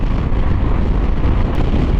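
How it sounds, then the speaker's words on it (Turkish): Wind buffeting a rider on a KYMCO DTX 360 maxi scooter, striking the upper body above the windscreen: a loud, continuous low roar of rushing air on the microphone, steady throughout with a brief gust near the end. "Fakat cam olmasına rağmen şu üst kısımda bayağı rüzgar alıyorum."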